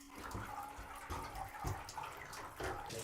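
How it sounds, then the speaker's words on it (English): Tap water running steadily into a vessel in a teapot build, with irregular splashy bursts and drips over a continuous watery wash, close and moderately quiet. "To amplify the sound of the water, we need to turn the water on even more."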